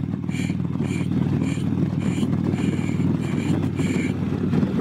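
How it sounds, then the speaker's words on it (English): Wind buffeting roars behind a motorcycle windshield at riding speed, a steady low rumbling blast with irregular gusty pulses that runs unbroken and loud the whole time. "And that's buffeting for you."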